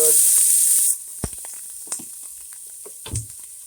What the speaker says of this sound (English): I'm gonna toss these onions in here now.